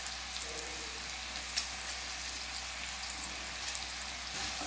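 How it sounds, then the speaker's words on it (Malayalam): Onions, curry leaves and green chilli sauté in a pan for a cauliflower masala. A soft, steady sizzle runs throughout, with an occasional faint clink or scrape of stirring and no voices. "ഇപ്പൊ കണ്ടോ സവോള നന്നായിട്ട് ഇതുപോലെ ഒന്ന് വഴന്ന് വന്നിട്ടുണ്ട്"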